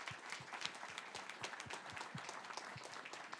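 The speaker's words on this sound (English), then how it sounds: "great applause to all our speakers and panelists" Steady applause from an audience after a panel discussion, many hands clapping together with no talking over it, fairly quiet throughout.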